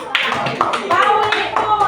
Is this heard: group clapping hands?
yes